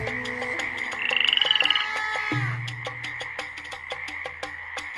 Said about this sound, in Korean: 두 번째로 하나님은 개구리를 보내셨어요.